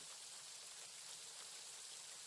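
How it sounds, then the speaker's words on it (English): Dense, heavy rain rushes in an unbroken hiss, steady and full throughout with no other sounds. "It's supposed to be heavy rain."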